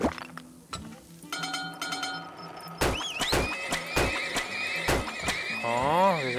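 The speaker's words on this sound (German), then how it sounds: "Wir setzen direkt ein paar Pferdchen ein." Horses whinny and neigh in the oil-drilling video game Turmoil, several drawn-out calls over a few hoof clops and plucky game tones, loud and close, with no talking.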